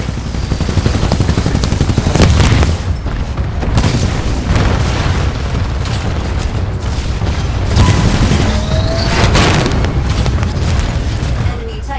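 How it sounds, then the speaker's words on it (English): An enemy Titan blows up in Titanfall 2 Frontier Defense on the Homestead map, a dense roar of booms and gunfire bursts that stays loud and continuous while a game voice announces over it. "Enemy Titan destroyed."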